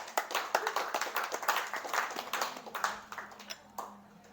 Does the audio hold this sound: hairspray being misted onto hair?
no